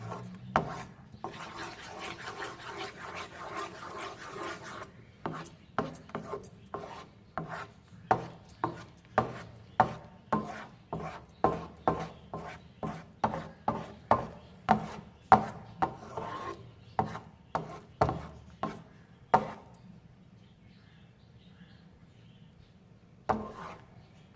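A spoon stirs egg halwa in a pan, scraping rhythmically against the metal in a steady series of short rasping strokes that quicken in the middle and trail off to near silence, with no one speaking.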